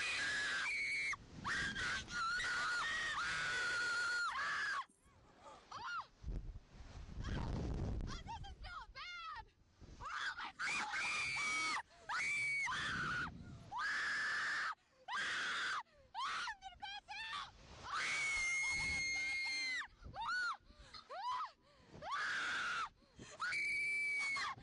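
A woman screams repeatedly on a rollercoaster, long high wailing shrieks broken by short gaps, loud and close, with ride noise and other voices mixed in.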